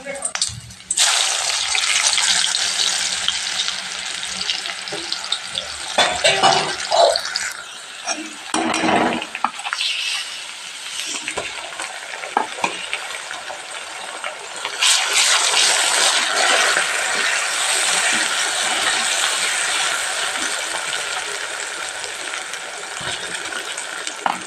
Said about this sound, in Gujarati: હવે આપણે વઘાર નાખીએ છીએ.